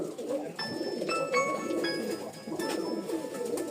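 Red-type Rajshahi Giribaj pigeons coo in soft, throaty rolls, close by and continuous for a few seconds, with faint higher chirps mixed in.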